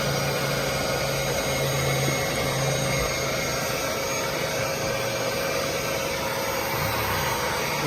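A wet vacuum roars loudly and without a break as its suction draws moisture out of freshly scrubbed upholstery in a 1975 Lincoln Continental, a steady close-up whine with no pauses.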